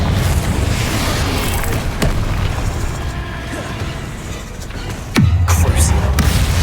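A fiery blast from a Confringo spell in Hogwarts Legacy on Xbox Series X booms loudly amid ongoing combat noise, with a sudden heavy low impact near the end of the clip.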